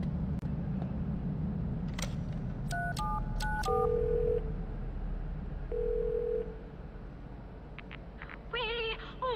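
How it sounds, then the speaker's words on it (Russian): Phone keypad tones in the video game The Darkness: a short run of stepped dialing beeps and a steady held tone, over a constant low ambient rumble, with faint chirpy electronic sounds near the end. "Давайте позвоним по телефону."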